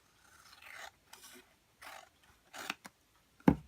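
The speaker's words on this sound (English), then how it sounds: "I just cut that triangle off with my scissors" Scissors snip through cardboard in a few short rasping cuts, with a final sharper snip at the end, close and alone without talk.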